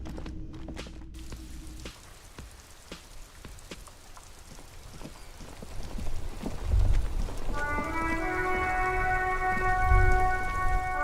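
Rain pattering on a white-and-blue police motor carriage in Disco Elysium, a steady close hiss of droplets with low rumbling swells, joined later by a soft sustained musical tone.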